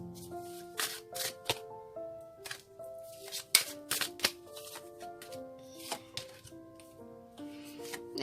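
Tarot cards being shuffled by hand, a run of soft riffling flutters and taps at an uneven pace, close and fairly quiet, over faint music.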